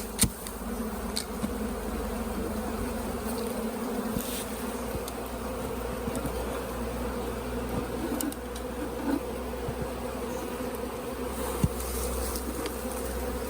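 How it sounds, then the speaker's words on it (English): Steady, dense buzzing of many honeybees swarming continuously around a hive at close range, with a few louder individual passes, no voices. "All the bees around here."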